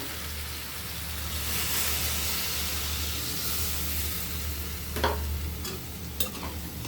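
Bitter gourd curry with drumsticks stir-fried in a pan, giving a steady broad sizzle with a low hum beneath and a few sharp scrapes of the spoon near the end, no talking.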